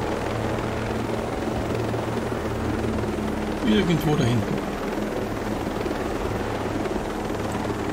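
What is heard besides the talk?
helicopter flying in video game Ghost Recon Breakpoint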